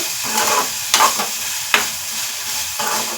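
Chopped onion base fries in oil in a pan, giving a steady close sizzle broken by a few sharp scraping stirs of a spoon.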